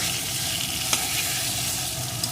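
Cabbage curry sizzles steadily in a hot pan while it is stirred, giving a dense, continuous frying hiss with a faint scrape of the spoon.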